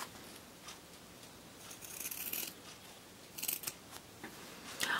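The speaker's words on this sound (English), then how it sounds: "Now I'm going to take my regular scissors and I'm going to cut towards the middle." Regular scissors cut paper toward the center to make a pinwheel Christmas tree ornament, producing faint, crisp snips and rustles, a few brief cuts spaced apart against low room hiss.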